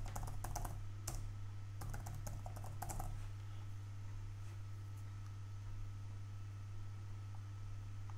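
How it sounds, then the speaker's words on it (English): Quick bursts of key presses on a computer keyboard as a password is typed, close and clicky for about three seconds, then only a faint steady hum remains. "Actually type in a password that I'm confident with."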